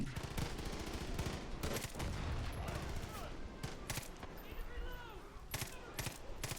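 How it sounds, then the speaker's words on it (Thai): Bursts of gunfire from a shooter game, Far Cry 5, as a barrel is shot, with sharp repeated cracks and rumbling over dense battle noise while someone talks over them. "ยิงถังแม่ง"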